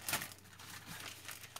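A plastic bag crinkles and rustles as it is handled, with a sharp crackle at the start and faint bursts after, close and quiet.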